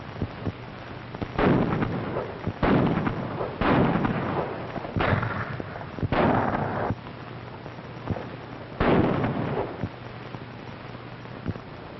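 A firing-squad volley in a 1935 film: five or six loud, separate gunshot blasts spaced about a second or two apart, each with a booming tail, mostly with no speech.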